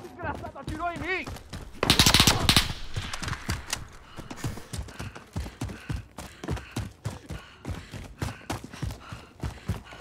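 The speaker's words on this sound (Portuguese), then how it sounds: "Desgraçado, atirou em mim." A rapid burst of automatic gunfire in a shooter video game, loud and dense for about half a second, then quieter scattered shots and clatter under ongoing talk.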